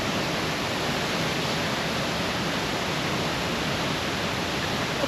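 Millaa Creek Falls, a waterfall in the Atherton Tablelands, pours as a steady, dense broadband rush of falling water that holds constant and close for the whole stretch, with no voices.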